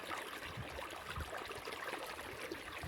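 Irrigation water streams steadily along a channel in a groundnut field, a soft continuous gurgling trickle heard alone at low level.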